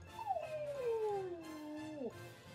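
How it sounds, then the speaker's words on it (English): A dog howls in one long, sliding, wavering note that falls steadily in pitch before breaking off, fairly close and clear with a few short whimpering yips around it. "You howl for the chickens?"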